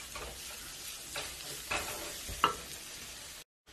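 Mint cooking in a pan for a yogurt dish gives a steady, soft sizzle with a few scraping stir strokes and one sharp utensil clink near the end, heard alone before a brief cutoff.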